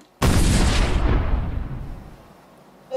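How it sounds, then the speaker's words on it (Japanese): Exploding slime bursts in a single sudden loud boom, followed by a decaying rumble that fades over a couple of seconds. "このスライムを入れると、爆発するよ。"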